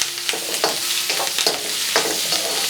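Cuttlefish is stirred and tossed in a sizzling frying pan, a constant frying hiss broken by several scraping strokes of a utensil at a loose, uneven rhythm.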